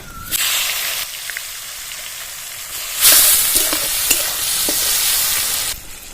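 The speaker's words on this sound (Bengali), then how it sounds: "কুচনো পেঁয়াজগুলো তেলের মধ্যে ছেড়ে দেবো" Chopped onions hit hot oil already tempered with dried red chillies and black cumin, giving a sharp sizzle burst and steady frying with occasional stirring clicks and scrapes, no voices.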